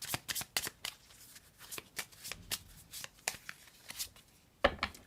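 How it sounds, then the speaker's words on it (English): Tarot deck being shuffled by hand in a quiet room, a rapid run of crisp card riffles and slaps repeating close up throughout, with no talking. "Let's pull two more cards."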